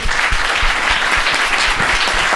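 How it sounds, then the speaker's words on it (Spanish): An audience at a lecture on Mexico's crisis applauds, a full, steady crowd of clapping hands with a few low thumps, close and loud, without speech. "Un aplauso, sí."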